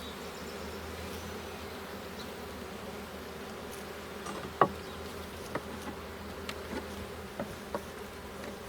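Honey bees from a newly installed package hum in a hive, a steady low drone close by and continuous, with a few faint knocks and clicks toward the end.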